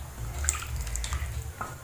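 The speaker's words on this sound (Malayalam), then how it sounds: "ഞാനിതിലേക്ക് കുറച്ച് ചൂടുവെള്ളം, നല്ല തിളച്ച വെള്ളമാണ് ചേർത്ത് കൊടുക്കുന്നത്" Hot boiling water poured into simmering chicken curry gravy in a pan, a soft steady liquid gush with faint splashes and drips, close and fairly quiet.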